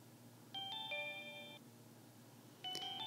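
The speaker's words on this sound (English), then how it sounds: "I grabbed this Glocken preset, and I just made a really simple short melody here." A glockenspiel preset in Ableton Live plays a simple short melody of bright, bell-like notes, a few struck tones ringing out, pausing, then resuming, clear and alone.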